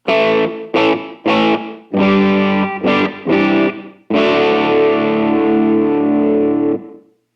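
Electric guitar chords distorted through a GP200 multi-effects unit ring out, several short choppy strums followed by one long sustained chord that fades away, loud and close.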